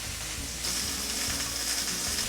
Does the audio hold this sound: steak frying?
yes